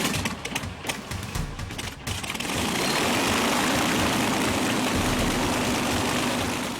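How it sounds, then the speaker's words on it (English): The four Rolls-Royce Merlin engines of an Avro Lancaster bomber run in a loud, steady, dense roar that thickens and evens out after a choppier start, with no voices. "4 Rolls-Royce Merlin engines."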